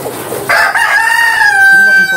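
A rooster crows loudly and close by, holding a long drawn-out tone, among Dekalb Brown and Rhode Island Red hens, with faint clucking and farmyard noise underneath.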